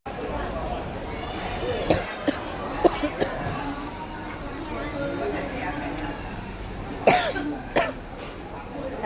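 Several sharp coughs from a person with a cold, at about two, three and seven seconds, set against a constant murmur of crowd chatter and street noise outdoors.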